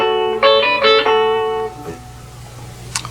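A few bell-like guitar harmonics ring out softly, a short chiming chord that fades, then a faint pluck near the end.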